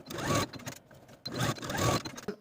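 A sewing machine stitches the facing seams of a wide strap maxi dress, two bursts of fast mechanical whirring with a short pause between, close and moderately quiet.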